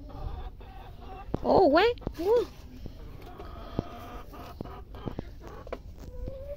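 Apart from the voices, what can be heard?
hen clucking while going to brood eggs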